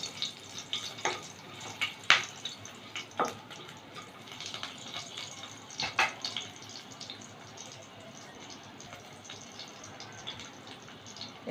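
Nigella seeds and slit green chillies fry in hot oil, a soft steady sizzle close by with scattered sharper pops and crackles and a few stirring clicks, with no talking.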